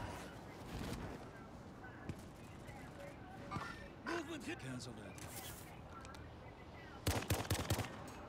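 Gunfire in a shooter video game: scattered single shots, then a fast, loud burst of automatic fire near the end, all under people talking.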